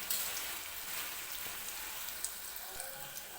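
Tomatoes frying in oil for a mutton curry, giving a steady, even sizzle close up, with a few faint pops and crackles and no talking.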